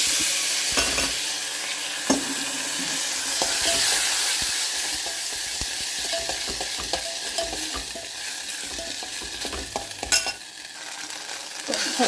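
Sabudana (tapioca pearls) fry in ghee with a loud, continuous sizzle close by, broken by occasional stirring scrapes and clinks of a spoon in the pan, with no talking.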